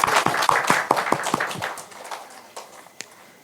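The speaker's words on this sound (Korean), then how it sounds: "축하하는 박수 한번 드리겠습니다" A small church congregation claps briefly to celebrate members with October birthdays during Sunday worship, a short burst of separate, fairly close hand claps that thins out and trails off into quiet room sound.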